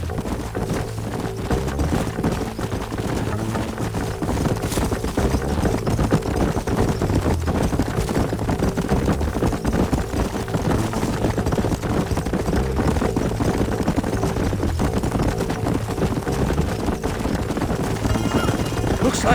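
Horses trotting with a steady clip-clop in the Red Dead Redemption video game, a continuous dense bed of hoofbeats and game noise running the whole time.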